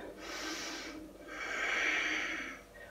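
Deep, slow breathing during a morning yoga detox flow in warrior two pose: two long, airy breaths close to the ear, the second fuller and louder, with no talking.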